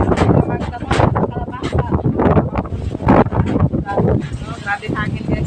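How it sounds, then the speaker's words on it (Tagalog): Strong wind on a farm buffets the microphone in heavy, gusting bursts, with a person talking loudly over the roar throughout. "Grabe na kasi sa hangin na po diri guys."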